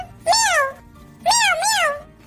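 A cat meows loudly close by, one drawn-out meow followed by a pause and then two more in quick succession.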